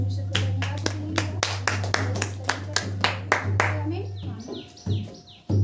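A church congregation at a Hindi prayer meeting claps hands together in a quick, steady rhythm of loud, close claps that fade out near the end, with faint bird chirps in the background.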